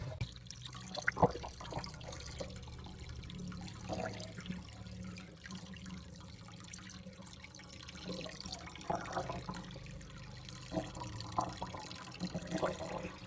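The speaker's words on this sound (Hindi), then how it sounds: "अब फिर हम इसको पानी से एक बार साफ़ करेंगे।" Water running and splashing while an instant geyser filter screen is rinsed clean of rust, a steady close tap flow with small drips and clatters throughout.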